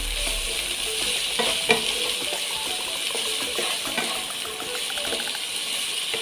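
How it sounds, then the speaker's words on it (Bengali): Potatoes frying in a pan for a Bengali-style chana masala, a steady dense sizzle with occasional small crackles and clinks, close and fairly loud throughout, with no talking. "আলুগুলো হালকা ফ্রাই করে নেব।"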